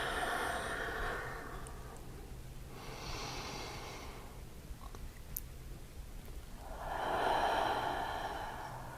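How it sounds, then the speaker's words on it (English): During a yoga hip stretch, three slow deep breaths are drawn in and let out. They are soft and close, with long airy exhales spaced evenly in a quiet room. "Take a couple of deep breaths here."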